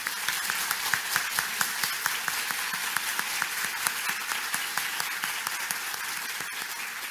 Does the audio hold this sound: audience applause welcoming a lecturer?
yes